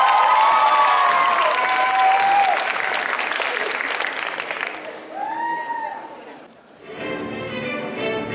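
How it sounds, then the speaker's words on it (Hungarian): Audience at a Mondocon cosplay competition applauds loudly for a Jack Sparrow and Hector Barbossa performance, steady clapping and some cheering that fades out midway, with voices talking and a bright music tone heard near the end. "Taps!"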